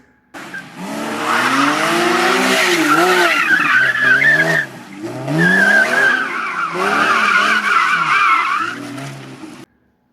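A hired car drifting, its tires skidding and squealing loudly in two long sustained bursts with wavering pitch over engine roar, close and continuous for most of the ten seconds.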